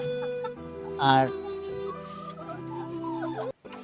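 Tiger and Fayoumi breed chickens on a farm cluck close by in a short burst, with other hens calling softly around, while someone talks over them.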